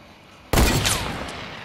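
A single sharp gunshot in the Fortnite video game, sudden and loud after quiet, followed by a ringing decay and a whistling sweep as the echo fades.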